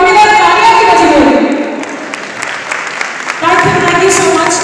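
Audience applause fills a hotel hall at an awards event, with a voice speaking over the clapping at the start and again at the end.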